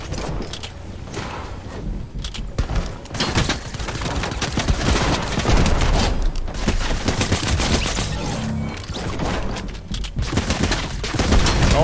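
Dense, loud gunfire from a pistol and SMG in the video game Fortnite: rapid overlapping shots and bursts crackle almost continuously for the whole stretch, with heavier volleys near the middle and end.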